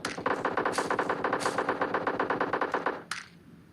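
Rapid automatic gunfire from an enemy in the mobile battle-royale game PUBG Mobile, a loud continuous burst of closely spaced shots lasting about three seconds, ending with one last crack before fading quiet.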